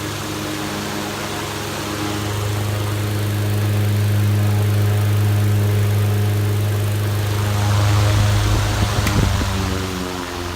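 Western Electric 10 electric fan running on high speed, a steady loud motor hum with a strong low drone and airy whoosh, holding constant for about ten seconds with a slight rattle near the end.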